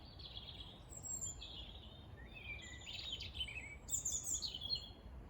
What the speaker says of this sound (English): listening to the birds is beautiful.